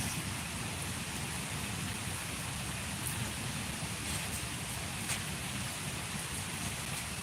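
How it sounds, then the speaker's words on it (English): Steady rain falls outdoors on a Monday, a dense, even hiss of drops with a few brighter patters on nearby surfaces, continuous and fairly loud throughout with no talking. "It's raining out here."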